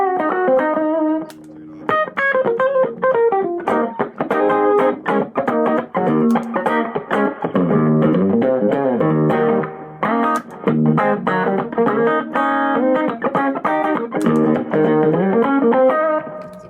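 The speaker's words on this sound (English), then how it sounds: "it's got a reverb on it, which is really good screen reverb" Electric guitar played through a Milkman 100 watt amp with a light spring reverb, into a Jensen-loaded cab, in a country jam band rig: a loud, continuous run of picked notes and chords with no one talking.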